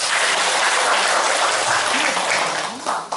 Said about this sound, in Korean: 강규 소장님을 큰 박수로 맞이해 주시기 바랍니다.